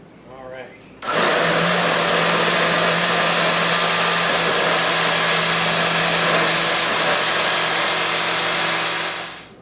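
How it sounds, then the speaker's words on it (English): A kitchen blender whirs loudly and steadily, churning crushed Oreo cookies with ice cream, after a short burst of voice; the motor drone holds nearly constant for about eight seconds before beginning to wind down, close and dominant. "So let's fire up our blender here."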